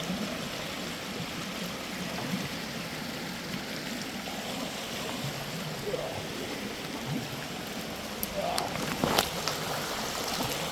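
A creek flows over rocks with a steady broadband rush of water, close and continuous, with a few small splashes or knocks near the end and no clear talk.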